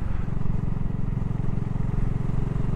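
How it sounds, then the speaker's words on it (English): A BSA 650 Goldstar single-cylinder motorcycle engine runs steadily up close, giving a deep, even thumping pulse that stays loud and unbroken throughout. "Engine's lovely. Nice and characterful. Got a lovely sound that comes out of it as well."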